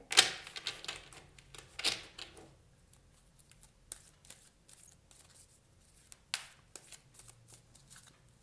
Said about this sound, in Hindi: दो और कार्ड्स हम आपके लिए लेंगे